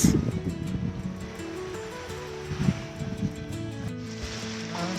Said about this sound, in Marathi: पाण्याचा आवाज वा छानच आहे ना लाटांचा